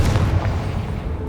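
A Confringo spell blast in Hogwarts Legacy lands as one heavy, booming explosion up front, its rumble trailing off over the next second.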